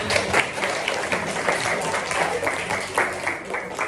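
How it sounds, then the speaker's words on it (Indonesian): Audience applause after a group presentation at a university event, a sustained burst of many hands clapping at close-to-moderate range with a voice talking over it. "aplaus semuanya"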